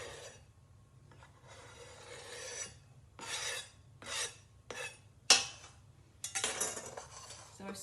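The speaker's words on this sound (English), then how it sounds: "I'm just going to slide my leeks into the pan" Chopped leeks scraped off a chopping board into a saucepan with a knife, giving several short rasping scrapes and slides in bursts, with a sharp clink near the middle, fairly close and alone.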